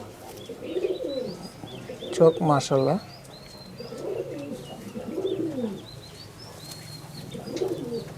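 Madrasi Kalanka pigeons, including a male, coo in repeated rolling phrases at close range, with a voice briefly speaking amid the calls and a few chirps.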